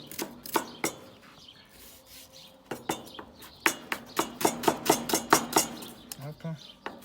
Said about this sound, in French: on va commencer déjà, c'est par hacher les échalotes.